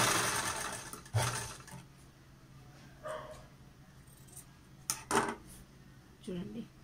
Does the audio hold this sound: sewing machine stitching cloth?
yes